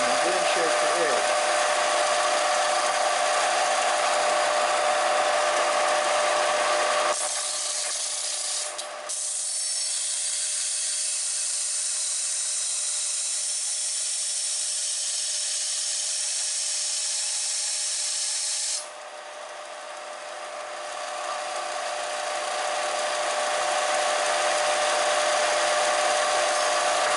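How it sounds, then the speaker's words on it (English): A straightened kitchen knife blade is ground on a grinder, a steady bright rasping that runs loud, drops away mid-clip, then returns under the whirr of the machine. "We're going to attempt to grind it straight and then shape the edge."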